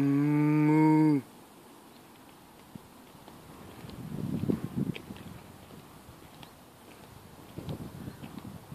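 A single long cow moo sounds close and loud at the start of a walk through the Dunbarney estate. Faint rustling and footsteps follow in a quiet outdoor setting.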